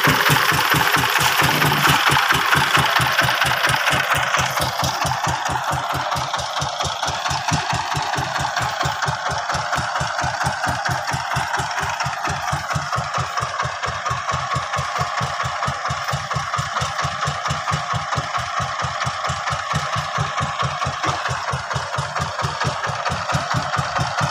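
A power tiller's engine idles in a pond while being washed, a steady, fast, rhythmic chugging that runs without a break from start to finish, close and fairly loud.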